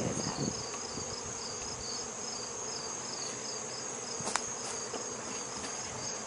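Honeybees in an open hive give a steady, dense insect hum that holds evenly throughout, with a high whine layered over a low buzzing drone and one brief sharp tick near the end.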